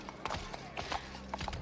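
Horse hooves climb stairs in a movie scene, giving a quick uneven series of hollow clops, moderately close and alone.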